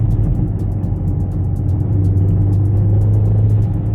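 A 2026 Mini Countryman John Cooper Works engine pulls hard as a loud, steady drone heard close from inside the car, with faint rapid ticking above it.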